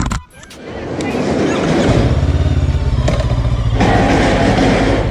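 A Gaokin Storr 500 motorcycle pulls away in first gear, its engine note rising from a brief dip into a loud, steady, close-up drone that holds through to the end.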